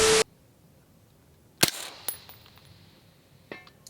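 Sharp AR rifle report followed by metallic rings off a steel target at precision-match range, a loud crack then a few fainter pings spaced over several seconds.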